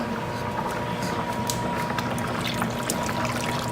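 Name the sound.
pouring liquid into a pot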